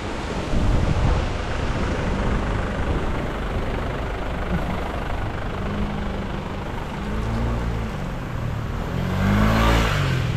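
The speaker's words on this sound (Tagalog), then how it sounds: "Grabe, lakas ng hangin pa rin dito." Strong typhoon wind roars steadily outdoors, a dense broadband rush with gusts swelling near the start and end, mixed with low rumbling that may include passing traffic.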